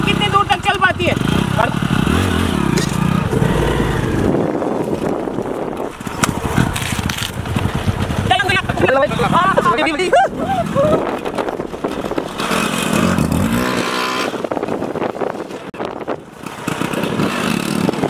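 A motorcycle engine, running on calcium carbide and water and making a strange noise, runs steadily and loudly throughout, with people talking over it.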